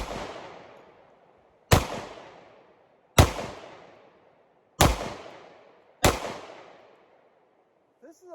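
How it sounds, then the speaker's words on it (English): Five sharp pistol shots from an FN FNX-45 Tactical .45 crack out at spaced intervals, each one loud and close with a decaying ring, then a faint clink at the end. "Let's do some shooting."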